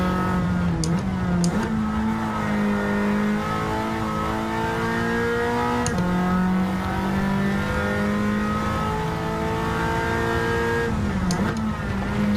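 A damaged race car competes in GTCC Championship race 4 in Alsace, France. The engine drones loud and close throughout, pitch climbing through each gear, with abrupt drops at the shifts.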